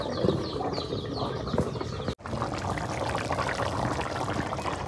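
Water being poured into a pot of chicken and bottle gourd curry, a continuous soft trickling splash with faint background chirps, broken by one short silent gap midway.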